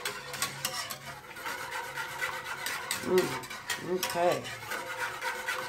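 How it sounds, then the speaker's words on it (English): Homemade cream of chicken soup being whisked in a pot, a steady scraping rasp that runs throughout at close range, with a short spoken word partway through. "You're going to whisk this in."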